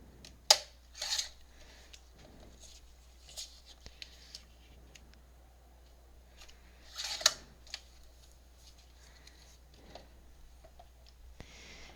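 Paper scrap being trimmed down to size with scissors for a handmade tag, faint intermittent snips and small clicks scattered over a quiet room with a low hum underneath.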